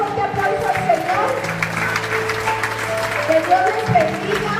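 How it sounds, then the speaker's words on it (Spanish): A church congregation applauds with steady, dense clapping that fills the room. A voice speaks over the applause, and organ or keyboard tones are held underneath it. "Denle un fuerte aplauso al Señor."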